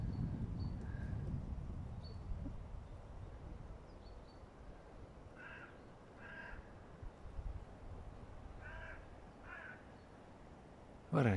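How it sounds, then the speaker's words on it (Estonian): Crows caw in a forest, faint and distant over a soft wind, with a couple of short clusters of harsh calls spaced apart and no talk. "Varesid on palju."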